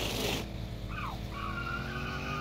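A car in the driving game The Long Drive pulls away in first gear. A burst of noise at the start gives way to an engine note that rises and settles as it gathers speed, moderately loud and with no talking.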